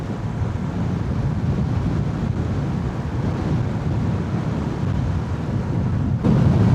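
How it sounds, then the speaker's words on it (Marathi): Strong gusting wind roars steadily over the microphone during a motorcycle ride on the highway, a loud continuous low rumble throughout with a brief surge near the end, no speech. "खूप जोरात वारा सुटलेले आहे."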